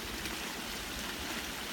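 Steady rushing water from a pond filter system pouring down a garden waterfall fed by a header tank, a continuous close broadband splash and trickle with no pauses.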